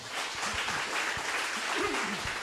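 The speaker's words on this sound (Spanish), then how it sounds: "dile otro aplauso al Señor" A church congregation applauds, steady clapping at moderate distance over a low background murmur, continuous throughout.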